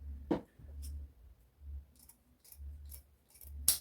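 Scissors snipping material into a shape for a homemade knee pad, quiet close crisp cuts in an irregular rhythm with soft handling noise between.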